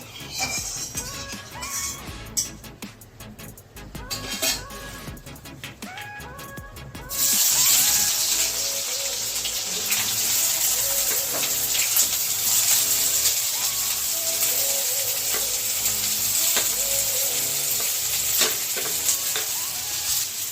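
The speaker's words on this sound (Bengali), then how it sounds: "এবারে পেঁয়াজ দেব।" Onions hit hot oil in a pan for Bengali mutton kosha, fat from the mutton added. After a few seconds of clinking and stirring, a loud steady sizzle takes over and holds, close by, with no talking.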